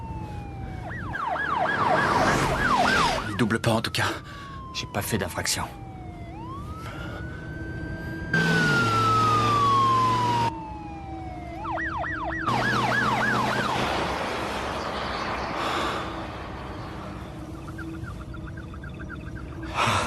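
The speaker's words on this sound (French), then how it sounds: "C'est peut-être pas pour nous, la sirène." An emergency vehicle siren wails in rising and falling sweeps behind a car on the road, loud and near, while people inside the car talk in French over it.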